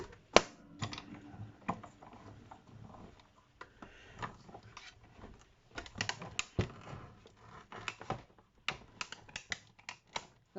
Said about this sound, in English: That's just the die cutting into the plate underneath.